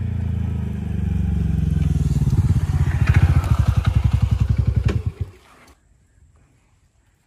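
A TVS Ntorq XT 125 scooter pulls up close, its engine rumbling loudly, then settling into a rapid putter that slows before cutting off, leaving quiet.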